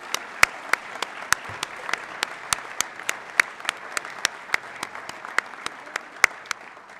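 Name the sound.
applause for student government reps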